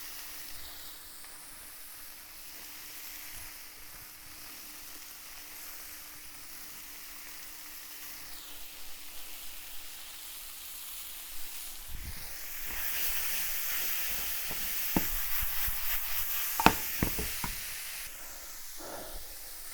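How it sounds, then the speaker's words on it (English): Tofu scrambled in a frying pan gives a quiet steady sizzle and hiss, building louder in the later part with scattered scraping clicks and taps of a utensil against the pan. "Just take the tofu and scramble it."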